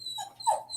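A dog whimpers in a few short, high, wavering whines, close and fairly clear, with a faint steady high tone behind and no talking.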